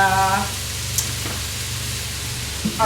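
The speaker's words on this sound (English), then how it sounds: "Nothing would be better than a good country song with some bacon cooking in the background" Bacon frying in a pan, giving a steady, close crackling sizzle under a low hum, with a few brief tonal sounds at the start and near the end.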